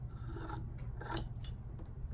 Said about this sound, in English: I'm just going to use my scissors to cut this